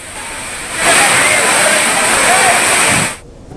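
Rushing roar of the Gauri Gundala waterfall at Sabbitham in Peddapalli, a loud broadband wash that swells in abruptly and holds steady for a couple of seconds before cutting away sharply.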